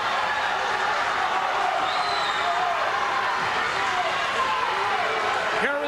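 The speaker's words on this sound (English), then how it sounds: "Toma crowd getting into it now." Wrestling dual meet crowd in a school gym cheering and shouting steadily, a broad continuous roar with a commentator talking over it.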